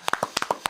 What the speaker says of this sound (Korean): 일단 박수 한번 칩시다.